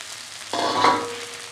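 A sudden burst of sizzling as food hits a hot pan, then a steady crackling fry that slowly eases; pointed gourd and taro stolons frying.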